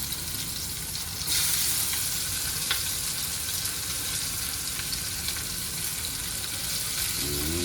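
Tempering spices and asafoetida dropped into hot oil give a dense, steady sizzling hiss that swells suddenly early on and then holds at an even level, close and continuous with no voices.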